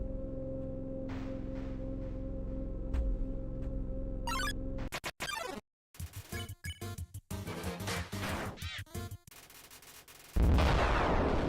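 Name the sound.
explosion in Undertale video game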